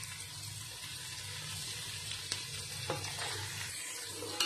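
Chopped carrot pieces fry in a pan for carrot sweet corn pulao, a steady soft sizzle with low hum beneath and a few faint clinks of stirring, no voices.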